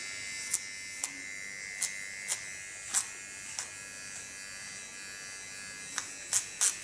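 Electric hair clipper buzzing at the nape during a bob haircut with a shaved nape, a steady high hum broken by about a dozen short sharp bursts as the blade passes over the neck, fairly quiet and close with no talk.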